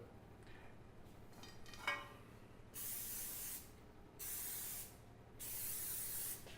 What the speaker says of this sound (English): You gotta make sure it's spraying.